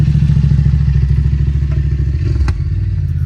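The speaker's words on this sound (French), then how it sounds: "Il y a un mec avec sa moto qui passe avec son moteur qui se fait du boucan" A motorcycle engine drones loudly and steadily throughout, a low rumbling roar with a brief clatter near the end, as if passing close by.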